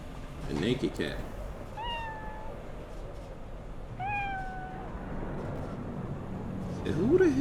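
Cat in Cyberpunk 2077 giving two clear drawn-out meows a couple of seconds apart, over game ambience and brief voices.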